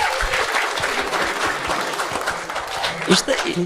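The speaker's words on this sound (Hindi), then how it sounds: "ताली बजाएंगे इशिता के लिए" A studio audience claps on a dating show, a lively, moderately loud patter of hands with a few sharper claps near the end and voices mixed in underneath.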